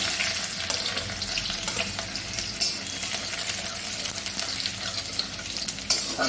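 Constant crackling sizzle of garlic and dried chili frying in hot oil, dense and close, with occasional louder pops and stirring clinks throughout.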